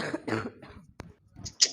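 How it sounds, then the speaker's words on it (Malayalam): A person gives a short, muffled cough after some low vocal sounds, with a sharp click and a faint high tone following. "നല്ല ചുമ"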